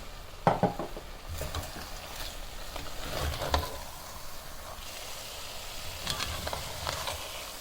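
Starch halwa being stirred in a pan over low heat, soft scraping strokes and gentle sizzling, fairly quiet and close, with a few sharper utensil knocks and scrapes spread unevenly through the stirring.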